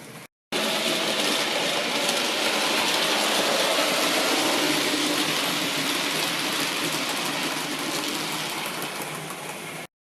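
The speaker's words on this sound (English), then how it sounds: "Next on the in the line is a Hornby made in Margate B17 pulling a milk train, and it's made a pretty smooth start" A Hornby-made B17 model locomotive with an old 3-pole motor and tender drive pulls a milk train on a model railway, giving a steady, fairly loud rushing run that fades slightly toward the end, with no talking.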